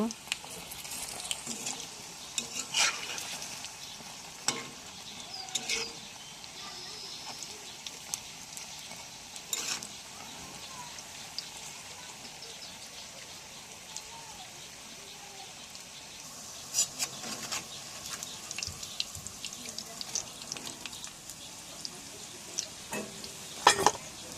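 Oil sizzles steadily in a pan as coconut-filled puli pitha dumplings fry, with scattered clinks and scrapes as pieces are turned; the frying stays moderate and close throughout.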